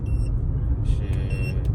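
A car with a P0420 check-engine code pulls away after a Cataclean fuel-system treatment, its low engine rumble steady and close, with faint high-pitched tones over the top.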